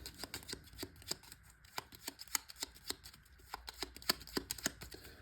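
Playing cards being shuffled, a rapid series of crisp riffling snaps and flutters, close and fairly quiet, with no voices.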